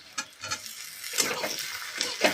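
Chopped tomatoes go into onions already fried until reddish and get stirred, with bursts of sizzling and quick scraping and clinking strokes of a utensil against the pan at an uneven rhythm, no voices.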